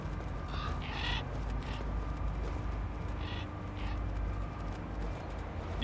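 Birds calling in Metal Gear Solid: The Twin Snakes, a few short cawing bursts scattered over a steady, dense game ambience with no talk.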